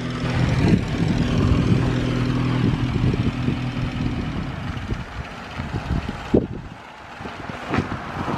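A Morris 8 Series 1 classic car engine idles in neutral and rises slightly under a light touch of throttle, a steady low rumble with some wind buffeting on the microphone and a few knocks near the end.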